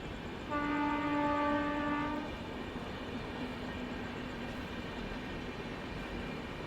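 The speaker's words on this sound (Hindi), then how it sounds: "इस तरफ हम लोग कर रहे हैं इंतज़ार एपी एक्सप्रेस का ओवरटेक" The AP Express passes and overtakes on the rail line with a loud sustained horn blast, followed by the steady rumble and clatter of the moving train.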